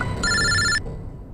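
A telephone rings once in a crime-investigation setting, a bright electronic trill that sounds for about half a second before stopping, followed by quiet room tone.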